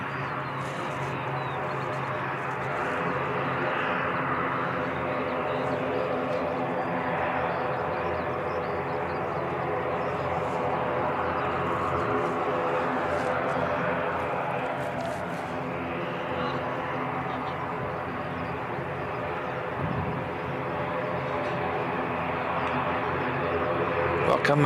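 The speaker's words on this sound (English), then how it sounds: "the ATR that's popping out now is not on the flight radar. It's very noisy though." An ATR turboprop aircraft departs Christchurch Airport in wet conditions with a steady, heavy droning roar carried at a distance, under occasional talk.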